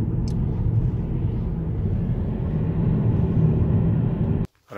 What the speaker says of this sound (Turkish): Motor sesi geliyor bence.